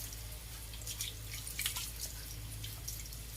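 Water splashes and drips steadily during a dog's bath, a continuous close wet patter with a low steady hum beneath, without talking.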